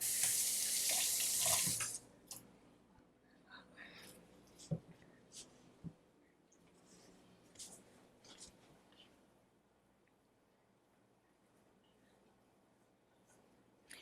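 Water runs briefly from a tap at the start, then stops, leaving quiet with scattered soft clicks and handling noises.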